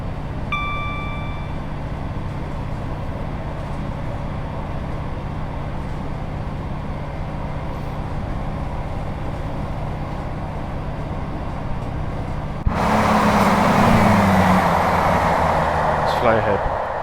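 A Class 158 diesel train accelerating in Train Sim World 4, with a steady engine drone that swells into a louder, rougher roar near the end.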